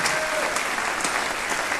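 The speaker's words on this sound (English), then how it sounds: "Give them a round of applause, please, for being here tonight." An audience at an evening concert band event gives a short burst of clapping, dense and even for under two seconds with no talk over it.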